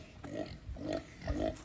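A Kune Kune breeding sow grunts on a farm, three soft, low grunts in a row, close and fairly quiet, with no talk over them.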